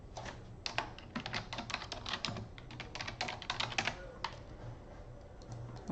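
Computer keyboard typing while a label is entered on a trading chart, a steady run of quick close clicks lasting several seconds with no talk.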